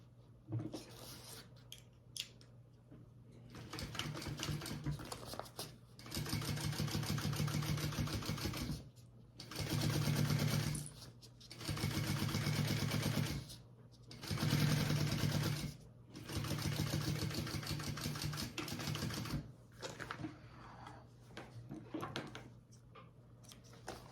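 Sewing machine top stitching a seam, running in several steady motor bursts of a few seconds each with brief pauses between, close and clear.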